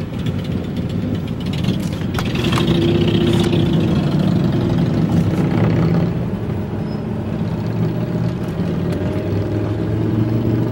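Motorcycle engine idling in a parking area near Badlands and Mt Rushmore, a steady low rumble close by with faint voices in the background.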